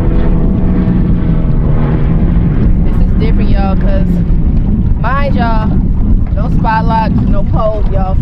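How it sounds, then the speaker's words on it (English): Wind buffets the microphone during bass fishing from a boat, a loud, constant low roar that fills the whole stretch while a person talks over it. "So this wind right now is a little different."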